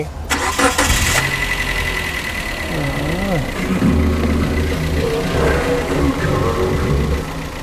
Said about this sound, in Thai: เรามาฟังเสียงเครื่องยนต์กันนะครับ ว่าจะนิ่มและเงียบกันขนาดไหน